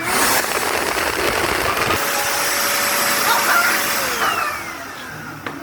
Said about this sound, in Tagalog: ipapakita ko nga pala kung gaano kalakas tong blower na to.